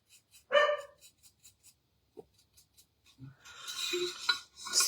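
Dogs bark in a short burst indoors, a single loud bark cluster followed by faint taps and clinks, then bright clattering household noise building near the end; no talk.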